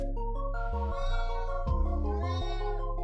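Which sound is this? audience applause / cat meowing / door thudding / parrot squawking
cat meowing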